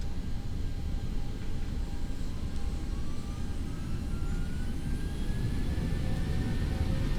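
Boeing 737-800 jet engines in X-Plane 11 hold a steady, loud roar at takeoff throttle, with a broad rumbling wash and faint whining tones slowly rising in pitch as the airliner picks up speed.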